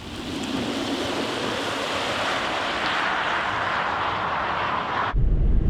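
Tesla Model 3 Dual Motor accelerating hard on a race track, a steady broadband rush of wind and road noise with a faint rising motor whine, ending in a sudden low thump.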